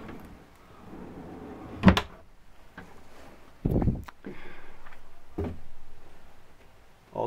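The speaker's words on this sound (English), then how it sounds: "a large drawer under the V-berth" A large wooden drawer under a boat's V-berth is slid open and shut, giving a few distinct knocks and sliding thumps separated by quiet pauses, fairly close and soft overall.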